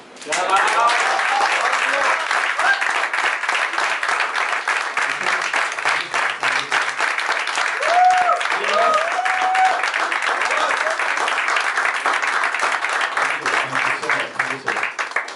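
An audience at a spoken-word stage performance about the Delhi riots claps continuously, a dense and fairly loud patter of many hands, with a few voices calling out briefly beneath it.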